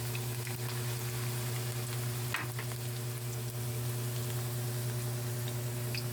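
Afritada pork ribs sauté in a generous amount of oil, giving a continuous soft sizzle over a low steady hum, with a few faint ticks and no speech.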